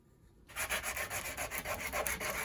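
Steady back-and-forth rasping of 80 grit sandpaper against a wooden Christmas heart ornament, starting after a short quiet moment and continuing in even strokes, close and fairly loud with no talking.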